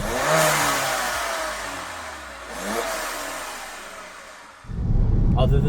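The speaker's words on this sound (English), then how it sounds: "it has a downpipe, and it has a better blow-off valve to make it sound better" Peugeot 207 Rally engine fitted with a downpipe and an upgraded blow-off valve revs up in rising, falling sweeps, loud and close, then cuts to a deeper rumbling burst at the end.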